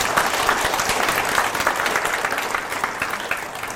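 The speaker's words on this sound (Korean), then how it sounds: "엄태영 의원한테 박수 한번 쳐드립시다." Audience applause for lawmaker Eom Tae-young at a book concert, a thick, continuous wash of many hands clapping together, steady and loud throughout with no talking on top.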